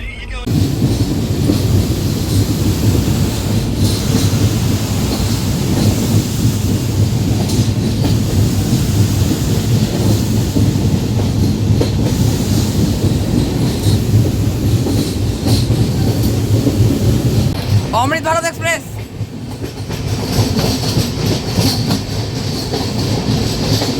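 A moving passenger train between Malda and Murshidabad on the Guwahati to Berhampore route: a loud, continuous rumble with rhythmic wheel clatter and faint squeals, with a short burst of nearby speech near the end.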